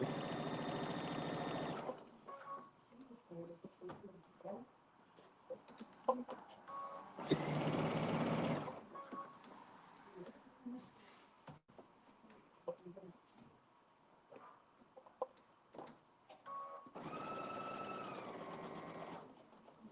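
A sewing machine gathering fabric for a bubble skirt runs in three loud bursts, each about two seconds of steady whirring stitching, with quieter handling and movement noises in the gaps between them.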